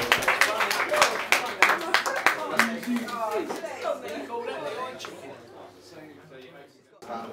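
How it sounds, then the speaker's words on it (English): Clapping and laughter from a live audience at a Scrapbots robot-building show, with scattered claps and chuckles over background chatter, fading toward the end. "Give him a big round of applause"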